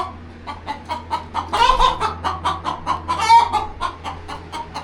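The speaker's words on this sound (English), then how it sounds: "The chicken was down in the barrel." A chicken down inside a barrel clucks in a rapid, steady rhythm with two louder squawking bursts, close and alone without talk.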